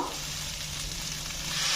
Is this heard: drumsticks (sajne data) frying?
yes